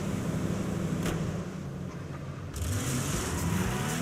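A car engine drives in the video game GTA 5, revving and accelerating with a steady motor drone, a brief sharp click near the start and a renewed rise in engine tone partway through.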